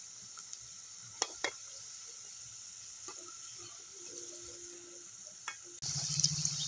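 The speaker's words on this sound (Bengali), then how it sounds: "এবার আমি পুলিগুলোকে ভেজে নেব" Puli pitha fries in hot oil in a wok, giving a soft, steady sizzle with a few light clicks and stirring sounds, and the sizzle grows louder and brighter near the end.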